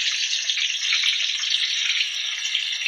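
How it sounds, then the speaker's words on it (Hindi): Chicken pieces shallow-fry in hot oil for a Punjabi chicken curry, giving a loud, steady, bright sizzle that runs unbroken from start to end with no voices. "इसमें अब हम 2 से 3 मिनट के लिए इन पीसेस को शैलो फ्राई करेंगे"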